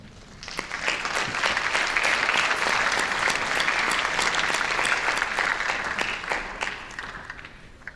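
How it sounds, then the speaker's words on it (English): Audience applause for a singer at a community show band concert, sustained clapping from a sizeable crowd that swells quickly and holds steady for about eight seconds, dense and fairly close. "Join me in giving George a round of applause"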